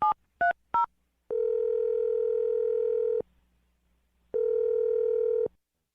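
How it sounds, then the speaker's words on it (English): Three quick dialing beeps, then a steady telephone tone sounds twice in long stretches with a short silent gap between, clear and close. "I'm going to dial his phone number right now"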